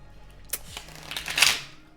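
Tarot cards being shuffled by hand, a series of soft papery riffles and flutters building to a brief louder burst near the end, close and alone with no talking.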